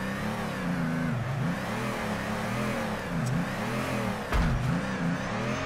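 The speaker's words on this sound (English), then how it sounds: "So let's throw Yoshihara car up and hopefully ride that bank" Drift car engine revving in the video game Torque Drift on a banked track, a steady loud wail rising and falling in pitch with repeated throttle swells and a sharp burst near the end, with no talk.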